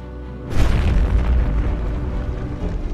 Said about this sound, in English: 70 tons of gunpowder went up in a devastating explosion that made all further resistance useless.